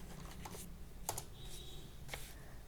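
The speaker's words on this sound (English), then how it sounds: "First of all, I'll type here Gmail." A few short bursts of keystrokes on a computer keyboard come in separate clusters, soft and close against a quiet room hum, with no voice.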